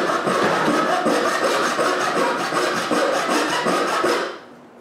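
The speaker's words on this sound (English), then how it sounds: "I identify what I need to remove and cut along the lines" A hand saw cuts along marked lines in a mahogany or maple board, a steady close rasping stroke repeating evenly for several seconds before stopping abruptly.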